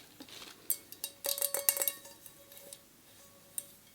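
Two blue and white mixing bowls with lids, knocked and set against each other by hand, giving a string of sharp ceramic clinks and clatters that bunch together midway, then a single last tap.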